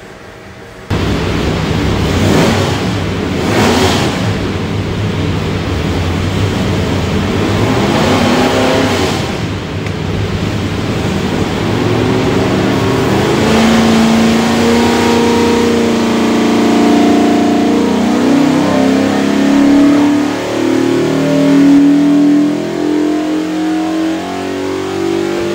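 A custom 347 Ford stroker V8 with Holley Terminator X fuel management revving on a dyno, with a few sharp blips first, then a long, loud pull climbing steadily in pitch before easing off.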